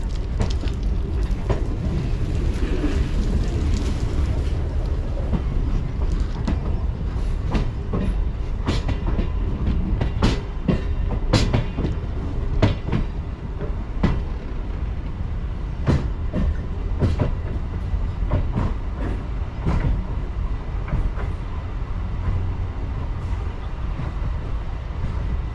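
A local train on the Howrah–Belur Math line runs steadily, with a continuous rolling rumble and a close, regular clickety-clack of wheels over rail joints throughout.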